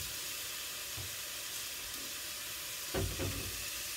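A hot pan with sage and thyme gives a steady broad sizzle, then a louder burst of hissing near the end as dry sherry hits it for deglazing.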